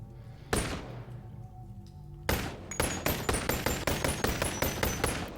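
Gunshots ring out in the VR video game Boneworks, one loud shot, a pause, then a rapid string of about a dozen crisp close shots in quick irregular succession.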